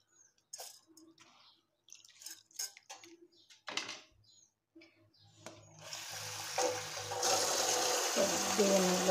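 Soaked grains are washed in water, with scattered clinks and handling noises first, then a steady rush of running water and sloshing that grows louder and continues to the end.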